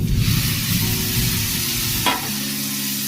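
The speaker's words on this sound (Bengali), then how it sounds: "আর লাল কাশ্মীরি লাল লঙ্কার গুঁড়ো। একটু ভেজে আমি এর মধ্যে দিয়ে দেব টমেটোটা।" Turmeric and Kashmiri red chilli powder frying in a pan give a loud, steady sizzle close by, with a single sharp stirring scrape partway through before the hiss settles slightly quieter.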